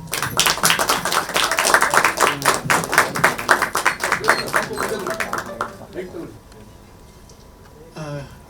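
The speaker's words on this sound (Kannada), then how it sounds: "ಜೋರಾಗಿ ಚಪ್ಪಾಳೆ" An audience at a Kannada film event claps loudly in a dense burst of applause that fades after several seconds, then a voice begins speaking.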